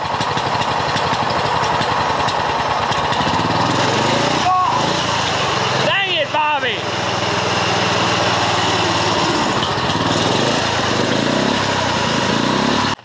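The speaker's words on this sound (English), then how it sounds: "You can hear the turbo." A turbocharged 420cc drift trike engine runs steadily and loudly throughout, a buzzy small-engine drone with a brief rev change and whistling turbo sweeps in the middle.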